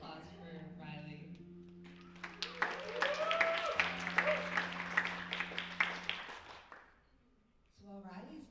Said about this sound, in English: Can we give a round of applause for Riley?